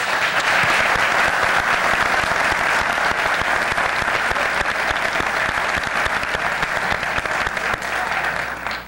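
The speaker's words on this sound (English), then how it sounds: "Let's give them all a round of applause." Sustained audience applause for the candidates at a city chamber candidates forum in Azusa, steady and dense clapping from a large room that holds strong for the full stretch before tapering slightly at the end.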